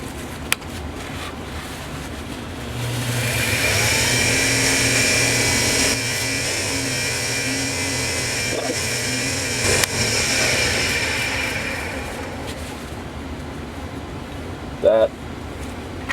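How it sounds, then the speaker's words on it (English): Wood lathe spun up to speed while buffing a finish sheen onto a rosewood bowl, a steady loud whir with a broad hiss that holds for several seconds then eases, with a few faint knocks near the end. "So now what I'm going to do is turn the lathe up, and I'm going to buff out the Hampshire sheen"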